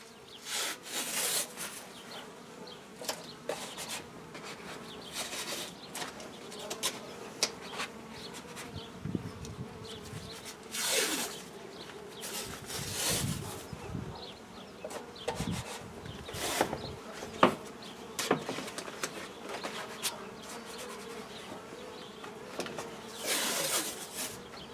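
Bees swarm inside a hollow speaker-box hive with a faint, constant low buzz, broken by scraping, rubbing and knocking noises from work on the wooden box, and no talk.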